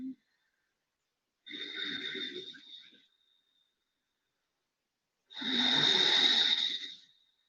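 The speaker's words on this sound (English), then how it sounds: "So it's a very slight constriction so that you make a sound when you inhale and exhale." Two long, breathy ocean-like rushes of Ujjayi breathing through a slightly constricted throat, an inhale followed by a louder exhale after a pause, heard close and alone in a quiet room.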